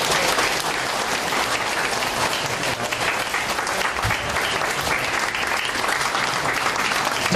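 A crowd of supporters at a Korean mayoral campaign event gives a bouquet presentation to the Yeosu mayoral candidate. The applause is thick and continuous and holds at a steady level throughout.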